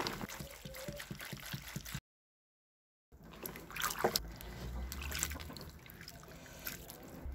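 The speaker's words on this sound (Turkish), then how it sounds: "Bu tuzların gitmesi için bol suda birkaç defa yıkayacağım." Salted olives being washed by hand in plenty of water, giving close trickling, dripping and sloshing sounds, with a short silent gap partway through and louder splashing afterward.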